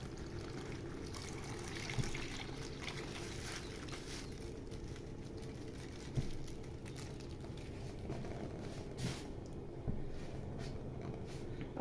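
Milk trickles and pours steadily into a pot for rice pudding, a soft continuous liquid stream with a few faint knocks, fairly quiet and without talk.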